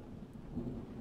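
Rain and thunder in the game The Last Job, a quiet steady patter of rainfall with a low distant rumble of thunder beneath it.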